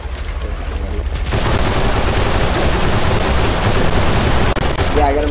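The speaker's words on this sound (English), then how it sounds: "Yeah, I got a machine gun pistol." A machine pistol fires in rapid continuous bursts in the browser shooter BattleDudes.io, loud and dense for several seconds, with a player talking over the shooting.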